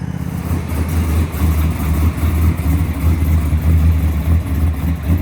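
A Ford Falcon race car's engine revving in park before race maintenance, a deep rumbling roar that swells and surges in uneven pulses, loud and close with no talk.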